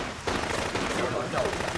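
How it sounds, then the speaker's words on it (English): Firecrackers set off by people celebrating, popping in a dense, rapid crackle of overlapping bursts that fills the whole moment, fairly loud and steady. "some of your friends seem to be celebrating already with firecrackers"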